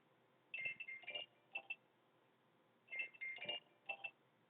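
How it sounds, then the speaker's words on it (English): A mobile phone rings faintly indoors in two short bursts of a chirpy electronic ringtone, each a cluster of quick tones, with a quiet gap between and no voices. "my phone's ringing"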